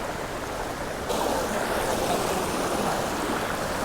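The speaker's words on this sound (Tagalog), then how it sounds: "So yan yung Tuntunan Waterfalls." Steady rush of river water and a waterfall in a forest setting, a dense, even roar that grows slightly louder partway through, close and constant without speech.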